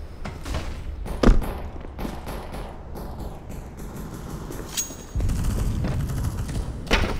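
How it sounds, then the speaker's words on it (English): Flashbang grenades and gunfire burst in a tactical shooter game, with a sharp loud bang early followed by scattered thumps and a dense rumbling barrage near the end. "Deploying flashbang."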